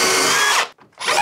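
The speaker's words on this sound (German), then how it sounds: "die bohren wir wieder hier mit der sensationellen geilen Bohrsenkkombi vor" A drill fitted with a combined drill-and-countersink bit bores pilot holes into wooden stair treads, whirring loudly for over half a second, stopping briefly, then spinning up again.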